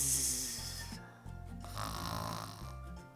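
A storyteller imitates an elephant snoring, voicing two or three long, rumbling snore breaths in a slow rhythm, close and fairly loud with no other speech.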